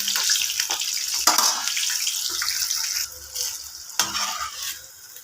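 Jackfruit puri frying in hot oil, a steady bright sizzle with a few louder bubbling bursts and stirring scrapes, close and continuous with no talk.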